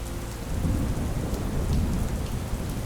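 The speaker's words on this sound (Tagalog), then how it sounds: "biglang lumakas ng husto ang ulan" Heavy rain pours down in a dense, steady roar, with a low rumble of thunder beneath it throughout.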